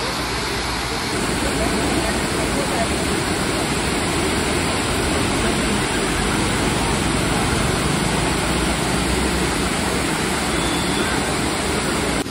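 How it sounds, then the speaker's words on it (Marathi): A large waterfall in Goa roars as a dense, unbroken broadband rush, loud and constant for the whole stretch. "सगळ्यात मोठा धबधबा आहे इथला"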